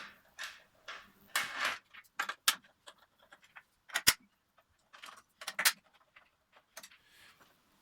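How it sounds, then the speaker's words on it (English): Small metallic clicks, scrapes and taps from a 4mm Allen key removing four bolts on the rear fairing of a 2018 Kawasaki Z900RS, sparse close-up bursts separated by quiet gaps. "We're going to use the 4mm Allen key to remove these 4 bolts holding on the rear fairing."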